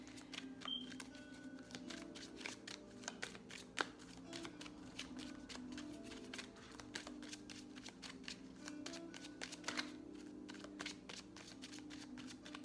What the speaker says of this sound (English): I'm trying to pull 2 cards right now for the feminine.